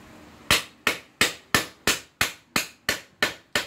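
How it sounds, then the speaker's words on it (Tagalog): Ten sharp metallic hammer strikes in a steady rhythm, driving a ball race bearing into a Yamaha SZ motorcycle's steering stem, each ringing briefly before the next, close and loud with no talking. "martilyo, pukpukin nyo"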